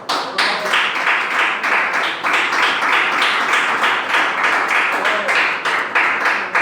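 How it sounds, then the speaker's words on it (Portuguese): A church congregation claps loudly and continuously in praise of the Lord, many hands in a dense, slightly rhythmic wave of applause filling the room. "Palmas que louvam o Senhor"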